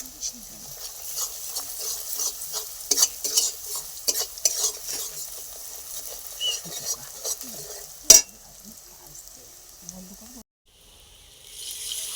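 Spiced masala sautéing in hot oil in a pan for a country chicken curry, with a steady soft sizzle and repeated scraping stirs of a spoon, a sharp clink near the end, then quieter frying.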